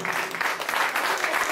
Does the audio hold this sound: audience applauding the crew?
yes